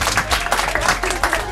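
Audience clapping at a first-birthday celebration, a dense, steady patter of many hands close by with crowd murmur mixed in throughout.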